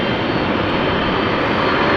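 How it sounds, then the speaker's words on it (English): GE CF6 jet engines on an Airbus A330 at rainy Amsterdam Schiphol Airport, a loud, steady broadband roar that holds constant throughout, with no talking. "Now what we're also hearing are CF6s. That is an A330 that just turned towards us and now sideways"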